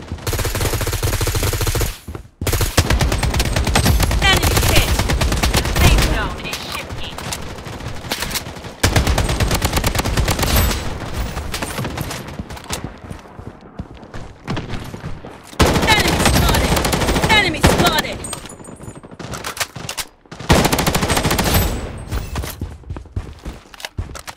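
Gunfire in the mobile shooter Project BloodStrike rattles in dense, sustained bursts and volleys, loud and close, with brief pauses between long stretches of shooting.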